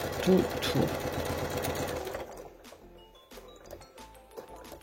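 A sewing machine stitches a fabric cover, a quick, even mechanical chatter for about two seconds that then stops, followed by quieter handling clicks and a voice.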